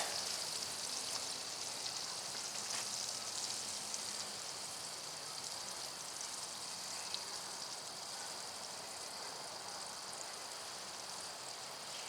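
Butter sizzles in a pan for a grilled cheese sandwich, a steady, faint crackling hiss that stays even throughout with no voices over it.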